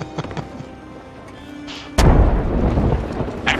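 A lightning strike cracks in the Sea of Thieves game, a sudden loud boom two seconds in that follows quieter clatter and rumbles on into a sustained roar.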